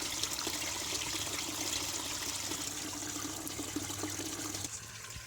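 Water spilling over the crest of a small concrete microhydro dam, a steady broadband rush and trickle running continuously at close range, easing slightly near the end.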